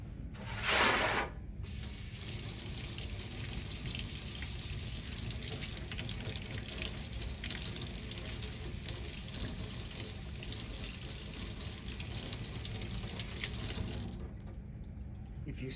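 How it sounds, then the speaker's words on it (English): Steady running water from a sink tap pours over a paint brush being rinsed, a constant close splashing hiss lasting the whole stretch, with a brief louder gush near the start and a slight change as the flow ends. "Now we have to use the sink."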